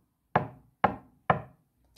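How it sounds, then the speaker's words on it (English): Three loud, evenly spaced knocks strike a door, each a sharp hollow rap that dies away quickly, with nothing else audible. "there were 3 loud knocks on the door."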